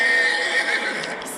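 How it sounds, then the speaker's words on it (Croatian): White horses pulling a carriage neigh in a single loud, close, drawn-out whinny lasting just over a second, with no talking. "Ispred kuće Pepeljugu je čekala prekrasna kočija s lijepim bijelim konjima."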